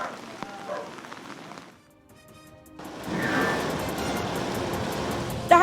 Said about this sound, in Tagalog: malakas po yung buhos ng ulan